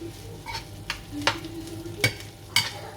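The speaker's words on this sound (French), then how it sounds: "On laisse comme ça griller un petit peu et on mélange" Rice and egg frying in a pan, a low steady sizzle broken by four sharp scrape-and-stir strokes spaced about half a second apart, close up and without talking.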